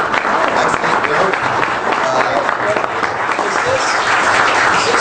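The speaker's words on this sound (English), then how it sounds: "We could all give our panelists a big round of applause." Sustained audience applause for a panel at the close of a GDPR discussion, steady and dense clapping from a room full of people for the whole stretch with no pauses.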